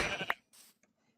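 Sheep bleating in the Minecraft video game, a short faint bleat followed by a couple of softer game noises, quiet with no talk.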